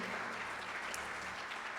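Applause in a church congregation, a soft, steady patter of many hands clapping at a distance, fairly faint and continuous.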